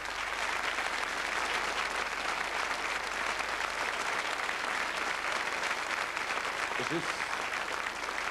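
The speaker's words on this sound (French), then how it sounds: "on peut les applaudir très très fort" A studio audience on a French television variety show devoted to operetta applauds a children's troupe, sustained even clapping from a large crowd, fairly distant and unbroken, with a brief voice near the end.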